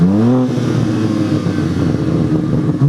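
Two sports cars, a BMW M4 and a Mercedes C63 S AMG, accelerating hard with a loud, steady engine roar that climbs in pitch at the start and holds strong throughout, close by.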